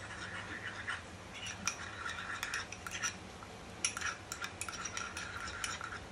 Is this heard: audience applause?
no